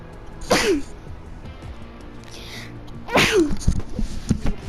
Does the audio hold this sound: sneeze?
yes